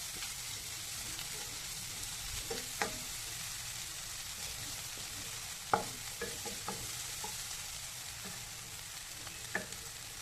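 Egg bhurji frying in a pan, a steady soft sizzle with intermittent scraping and tapping of a spatula as the eggs are stirred and broken up, fairly quiet and even throughout.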